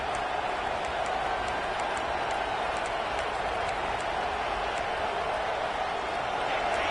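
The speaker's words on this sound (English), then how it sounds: "This crowd bringing the energy and noise early." A college football stadium crowd roars early in a game against Nebraska, a continuous, distant wash of crowd noise sustained evenly with no distinct peaks.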